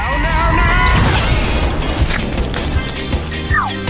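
A covered chocolate fountain bursts with a loud, messy crash and splatter, followed by scattered thumps and clatter as the noise slowly settles.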